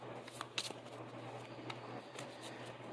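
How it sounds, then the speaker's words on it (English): A deck of game cards for a Marvel Champions match is shuffled quickly, giving soft repeated riffling and flicking bursts over a steady low hum, close by and fairly quiet with no talk. "Do a quick shuffle."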